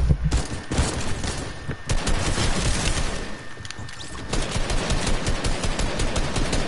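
Assault rifle gunfire in Fortnite, with dense rapid bursts of automatic fire that run almost continuously and stay loud and close throughout.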